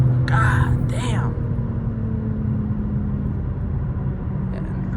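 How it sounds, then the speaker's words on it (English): A 900 BHP BMW M4 driven at night with traction control off, its engine a steady low rumble and whir close by, with a brief voice near the start. "I just got completely loose in fourth gear"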